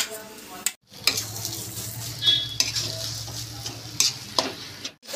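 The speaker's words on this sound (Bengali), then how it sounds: "একটু হলুদ দিয়ে ভালো করে নাড়াচাড়া করব" Chicken spring roll filling with turmeric is stirred in a pan, a soft sizzle running under repeated scrapes and clinks of a utensil against the metal, close and steady.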